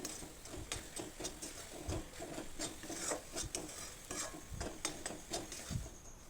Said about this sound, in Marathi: सारखं आपल्याला ते मिश्रण हलवायचं आहे, म्हणजे जळत नाही, खाली लागत नाही.